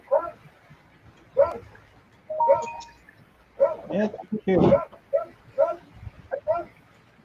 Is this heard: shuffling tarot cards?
no